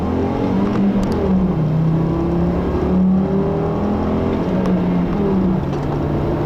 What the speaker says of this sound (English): you can hear that the 5-cylinder's got like an interesting sound